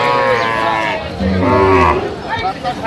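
A dairy cow and calf at the Aftabganj cattle market in Dinajpur give a loud, close moo amid the murmur of voices.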